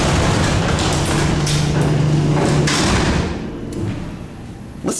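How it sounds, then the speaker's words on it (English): A GAL hydraulic freight elevator's gate slams down hard, with a heavy thudding rumble that fades toward the end before a final sharp knock. "Listen to that gate coming down so hard."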